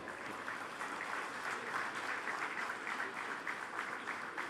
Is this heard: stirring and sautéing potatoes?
no